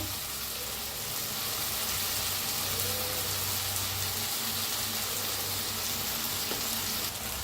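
Cauliflower and potato frying in a pan with turmeric, coriander powder and red chilli powder make a loud, continuous close sizzle with occasional stirring scrapes and no talking.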